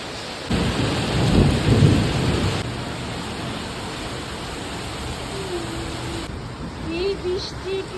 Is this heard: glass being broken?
no